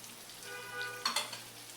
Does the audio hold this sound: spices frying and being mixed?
yes